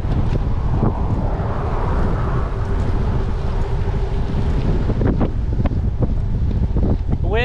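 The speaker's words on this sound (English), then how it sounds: "Wind is also high now." Strong wind roars steadily into the microphone while riding the Poseidon X, a constant loud rush with low rumble that barely lets up, plus a few brief knocks near the end.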